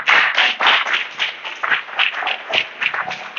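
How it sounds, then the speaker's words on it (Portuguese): A church congregation claps and applauds in bursts of uneven rhythm that swell and ease, fairly close and loud, with no talking over it. "Aplauda o Senhor."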